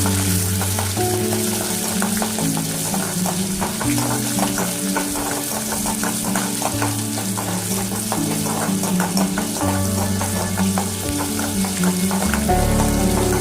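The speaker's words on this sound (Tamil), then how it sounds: "வெங்காயம் நல்லா வதங்கணும், அதனால வதக்கிக்கிட்டே இருங்க" Small onions and garlic sautéing in a pan for a pirandai thuvaiyal, giving a steady, continuous sizzle beneath prominent background music with sustained low tones.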